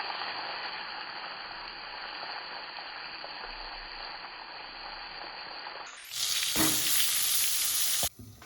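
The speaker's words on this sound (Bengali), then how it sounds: "তেল গরম হয়ে গেছে, বেগুন ভাজাগুলো দিয়ে দিচ্ছি" Eggplant slices frying in hot oil in a home kitchen: a steady low sizzle that jumps to a loud, bright crackle when more slices hit the pan, then drops off abruptly near the end.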